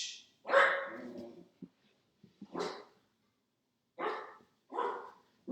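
A dog barks several times in a steady series of separate loud, close barks with short pauses between them, alone with no talk.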